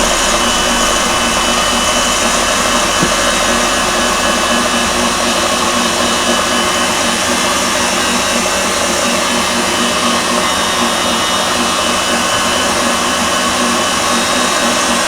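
An electric mixer runs continuously, whipping cream into homemade butter, with a steady loud whir lasting throughout and no talking over it.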